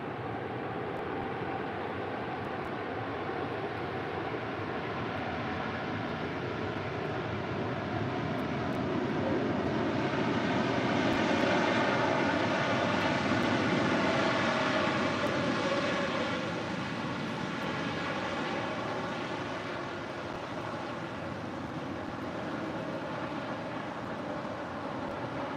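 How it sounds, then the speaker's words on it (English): A Cathay Pacific Cargo Boeing 747-8 arriving from Anchorage roars steadily as it lands on runway 25 left at LAX, a loud sustained jet rumble with whining engine tones that swell midway and then ease, with no voices. "That is the Cathay Pacific Cargo Queen 747-8 coming in from Anchorage, landing here on 25 left,"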